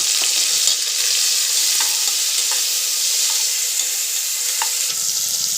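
Green peas and onions fry together in a pan, making a constant dense sizzle with faint crackles and pops scattered through it, close and fairly loud, without speech.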